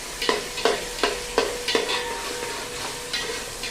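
Paneer fries in a pan while being stirred, five quick spatula scrapes in a steady rhythm over a bright sizzle, followed by a couple of slower strokes, close and loud.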